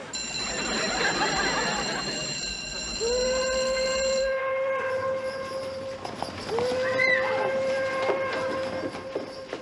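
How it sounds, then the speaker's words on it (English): A long, steady train whistle blows twice at noon over a rumbling, rattling train, loud and fairly close. "The exactly 12 o'clock train whistle"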